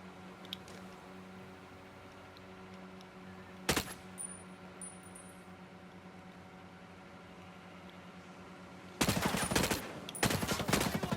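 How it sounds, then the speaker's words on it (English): A sniper rifle in Ghost Recon Breakpoint fires after a long, quiet stretch of low ambient hum. There is one sharp crack early on, then a loud, close burst of shots and echoing reports near the end. "Sniper ready to fire."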